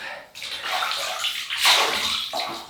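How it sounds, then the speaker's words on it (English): Water splashing from a basin as a face is wetted before shaving, a few close sloshing scoops and trickles running back down, with no talking. "We'll wet the face."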